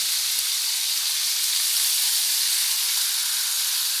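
Bread cubes frying in a skillet give a steady, bright hiss and crackle that stays even and close throughout, with no talking over it.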